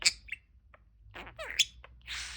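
A budgie parakeet gives a quick series of bright, close chirps and warbling tweets, some sharp and clipped and others longer and trilling, with no voices.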